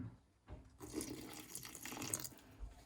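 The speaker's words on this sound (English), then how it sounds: "All you have to do is add some water when you're ready to mix." Water poured into hydraulic cement powder for mixing, a steady close splashing and trickling pour lasting a couple of seconds after a brief quiet start, with no talk.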